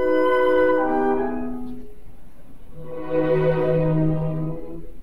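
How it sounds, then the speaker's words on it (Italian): Orchestra performing Rossini's overture to The Barber of Seville under Yuri Temirkanov: sustained string and wind chords swell, fade briefly, then return with a held low note beneath a rich, full ensemble texture. "Ora vi faccio ascoltare una versione del Barbiere Siviglia"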